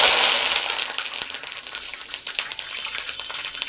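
Curry leaves fry in hot oil while making kara boondi, giving a bright, crackling sizzle that starts loud and settles into steady popping and spitting with no voices.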